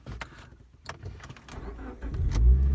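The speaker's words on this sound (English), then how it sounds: "I'm going to start the car." A car engine cranks and fires up near the end after some clicks and cabin rustling, building into a loud steady rumble close by.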